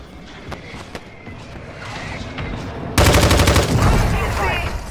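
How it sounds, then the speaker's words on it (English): Mortar strike explosions in the Call of Duty Resurgence game: a few faint thuds give way to a loud, sustained rumble of heavy blasts and crackling impacts, with a voice briefly heard. "Mortar strike inbound."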